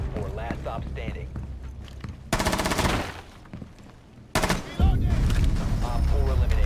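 Gunfire in the tactical shooter Rainbow Six Siege, with a loud burst of rapid shots partway through, then a second heavy volley near the end, mixed in with game sounds and voices talking.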